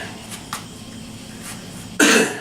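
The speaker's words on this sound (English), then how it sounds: "I smoke too much and I cough a lot" One sudden, harsh cough breaks in near the end, loud against a quiet background with a few faint clicks before it.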